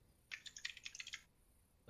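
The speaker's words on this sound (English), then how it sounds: "making bird sounds by typing on his keyboard" A quick burst of about a dozen keystrokes on a computer keyboard clicks quietly and close by, with a brief pause after the flurry and a soft knock at the end.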